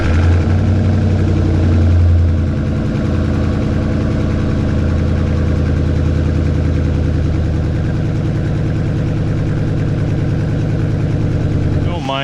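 A straight-piped Ford F-150 with a Triton engine and an exhaust leak idles steadily, a loud, close, continuous low rumble with a rough pulsing texture that holds throughout without changing.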